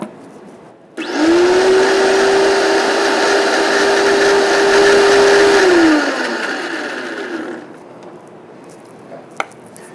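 Blender whirring loudly as it emulsifies vinegar, lemon juice and olive oil for garden pesto, a steady high motor drone for about five seconds after a sharp start, then spinning down into quiet with a final small knock.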